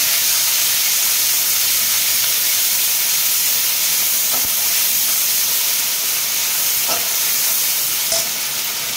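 Onion paste and ginger paste hitting hot oil in a pan for a rohu and poppy-seed curry, giving a steady, loud broadband sizzle and hiss that runs unbroken throughout, with a few faint clicks near the end.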